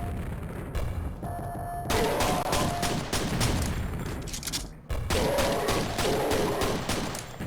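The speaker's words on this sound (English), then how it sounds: "who else is shooting at me?" Rapid, dense gunfire in the Quake video game continues almost without a break, loud and near, with occasional heavier booms mixed into the barrage.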